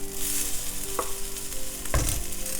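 Rice frying in a pan with spinach and eggs for spicy fried rice, a steady close sizzle with two sharper clanks of a spoon or spatula against the pan, no voices.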